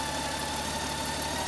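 An engine idles steadily just before shutdown, holding a continuous, even mid-pitched rumble with a faint knocking texture and no pauses.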